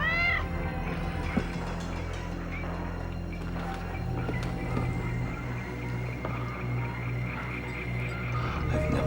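A cat meows repeatedly, its cries rising over a busy, steady background of low hum and tonal noise, with no clear speech.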